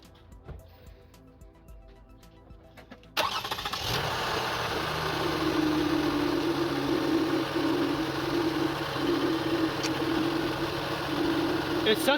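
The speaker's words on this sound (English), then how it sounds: "so let's start the engine." A Toyota Sienna minivan engine, 2004–2006 model, cranks and catches about three seconds in after quiet clicks, then settles into a steady, close idle that hums on to the end.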